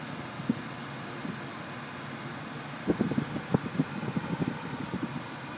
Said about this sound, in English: Cold air conditioning.